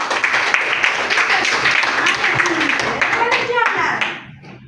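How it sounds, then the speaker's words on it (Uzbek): Pupils clapping together in a classroom, a dense burst of many hands applauding for a few seconds before it quickly fades, with voices mixed in. "Yashasin, qarsak chaladi."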